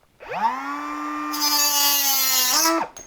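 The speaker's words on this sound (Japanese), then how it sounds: "何回か回してあげれば簡単に切れるんですけど、ただ切断のスピードめっちゃ速いです" A Makita 18V cordless compact cutter spins up and cuts through material: a steady high whine for about two and a half seconds, a harsh cutting hiss joining partway, then a quick wind-down, close and loud with no talk.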